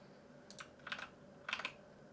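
Quiet typing on a computer keyboard while entering a terminal command: a few short bursts of clicky keystrokes in two clusters, close and soft, with no voices.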